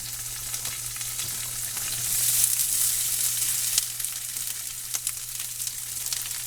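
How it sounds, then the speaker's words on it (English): Cold leftover rice fries in a skillet with garlic powder, giving a steady close sizzle with occasional crackles and a brief swell, over a low steady hum. "I'm going to add my rice to the skillet."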